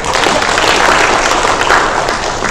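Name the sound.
audience applause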